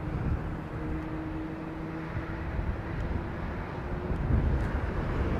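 Airliner LEAP engines spooling up at London Heathrow, a continuous low rumbling roar with a faint steady whine, growing slightly louder toward the end, heard from a distance.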